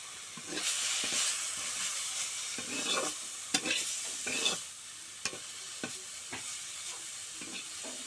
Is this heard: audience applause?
no